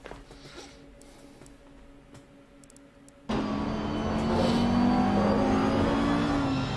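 A race car engine in a sim racing game, faint at first, then abruptly loud as the car comes under power with a strong, rising revving drone that holds to the end.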